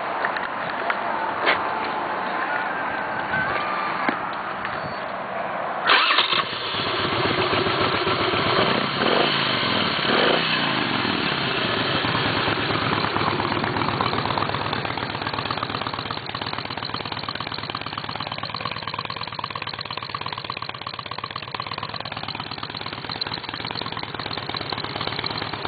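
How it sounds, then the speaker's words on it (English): A 2004 Harley-Davidson Ultra Classic motorcycle engine idles with a deep, loping rumble, steady and close, after a brief starting burst near the beginning. "Alright, we're gonna hear this thing run."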